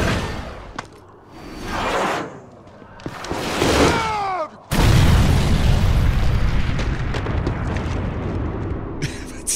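Stinger missile explosion in Resident Evil 5, a whooshing build-up then a sudden loud blast near the middle followed by a long, dense rumbling roar and debris.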